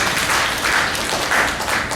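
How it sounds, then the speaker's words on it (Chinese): Church congregation applauding during a Sunday worship service, a steady wash of many hands clapping at moderate distance, continuous for the whole stretch with no clear pauses. "我们给耶稣一个掌声，哈利路亚！"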